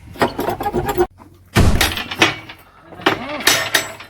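In a comedy skit, a door is banged and broken open with loud, heavy thumps and cracks in several bursts, while people shout and talk nearby.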